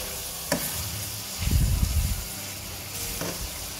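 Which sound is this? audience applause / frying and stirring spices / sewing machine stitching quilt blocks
frying and stirring spices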